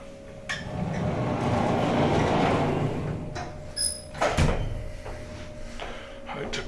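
Single-door lift cars at Wellington Hospital slide their doors along in a sustained rumble, followed by clunks and a sharper thud as they settle, with faint chimes in the background.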